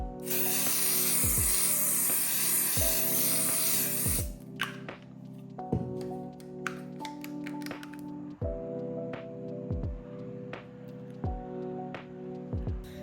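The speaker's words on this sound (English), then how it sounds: "I'll be using the Sylvia MAC mist, setting mist" A Sylvia MAC setting mist bottle sprays once in a long, loud hiss, followed by several quieter pump clicks and short spritzes in a steady rhythm.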